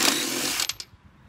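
Impact driver run in reverse to back out bolts on a Husqvarna LGT2654 mower deck, a short loud whirring burst that cuts off abruptly with a couple of quick trailing clicks.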